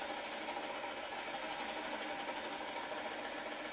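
Steady mechanical hum and whir of a Coronet Herald wood lathe spinning at its highest speed while turning a wooden tea light holder, continuous and even with no talking.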